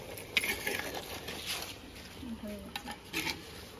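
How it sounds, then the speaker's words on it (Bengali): A utensil stirs chicken curry in a clay pot with soft, close scraping and clattering strokes over a few seconds, faint and irregular, with quiet voices in the background. "আমি নাড়া দেবো একটু।"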